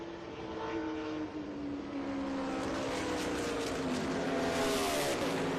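Trans Am Series race cars at Watkins Glen, New York, roar down the back stretch toward the inner loop, engines sustained and loud with shifting pitch as they pass and accelerate, no talk.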